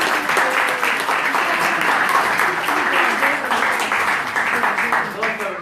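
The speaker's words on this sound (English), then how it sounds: "let's give them a warm round of applause" A gathering at a Sunday talk at ISKCON Newcastle applauds warmly, a sustained, loud wash of clapping with voices mixed in underneath that holds steady for several seconds.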